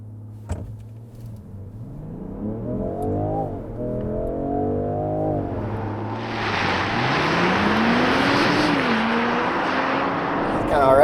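A 2023 Range Rover Sport plug-in hybrid with a 3-liter turbo inline-six pulls away hard without launch control, its engine note rising steadily into a loud, broad roar with a faint whine on top, after a stretch of quieter drive tones.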